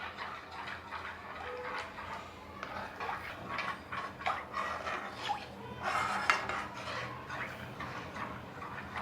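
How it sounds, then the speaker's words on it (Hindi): A spoon stirring besan and milk in a pan, with irregular light clinks and scrapes against the metal over a soft background hum. "इसको फटाफट दूध डालना है और चलाना है, नहीं तो इसमें लम्स बहुत पड़ जाएंगे"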